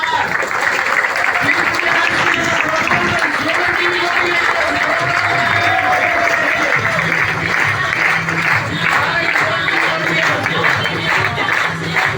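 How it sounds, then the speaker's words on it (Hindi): An audience at a marketing company event claps loudly and steadily for the whole stretch, a continuous wash of applause with a voice and tonal sounds running underneath. "एक बार जोरदार तालियां इन सारे लोगों के लिए।"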